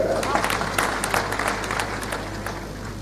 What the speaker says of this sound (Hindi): जोर से ताली बजेगा